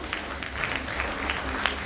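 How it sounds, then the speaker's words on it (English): An audience at a panel discussion claps in a brief, steady burst of applause heard from within the hall. "Let's have a huge round of applause for him."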